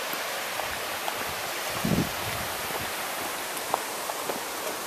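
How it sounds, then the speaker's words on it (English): A small waterfall beside a running trail, the Matt Davis Trail, giving a steady, soft broadband rush of falling water with a brief low thump partway through and no talk. "Little waterfall."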